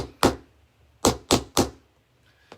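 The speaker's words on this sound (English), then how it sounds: "knock that staple in" A small hammer drives a staple into a buffalo-check wreath with four sharp, loud knocks: one, a pause, then three quick blows, followed by a faint final tap.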